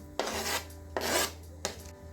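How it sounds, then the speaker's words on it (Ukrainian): A knife cuts boiled or baked beetroot into small pieces on a board in three distinct rasping strokes, close and fairly quiet, over a faint low hum. "Відварений або запечений буряк нарізаємо невеликими шматочками."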